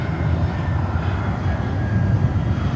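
A Global X airliner taxiing at Miami airport gives off a steady low engine rumble and whine, moderately loud and unbroken, with no voices.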